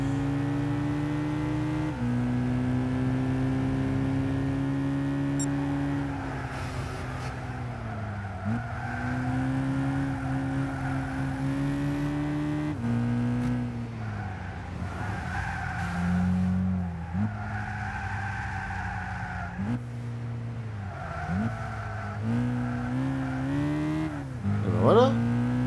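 Rally car engine in Gran Turismo 6 racing, a loud continuous engine drone rising and falling through gear changes, with tire skids and squeals through corners and someone talking over the race.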